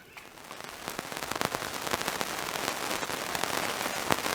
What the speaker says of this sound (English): The rains are here.